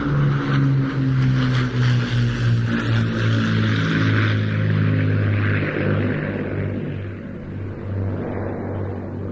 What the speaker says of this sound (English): Battle of Britain Memorial Flight, Lancaster.